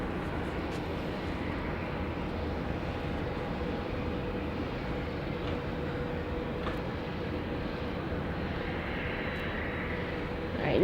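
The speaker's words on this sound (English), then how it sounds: "As we go to this jet turning right in front of us." A jet airliner taxiing and turning close by at Dallas Love Field produces a low, even engine rumble with a steady hum, fairly quiet and unbroken, swelling slightly at the very end.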